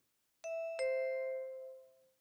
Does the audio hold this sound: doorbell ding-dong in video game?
yes